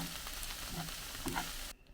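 Udon noodles with cabbage and onion sizzle and crackle as they are stir-fried in a pan, with occasional scraping from stirring, close and moderately loud before the sound cuts off near the end.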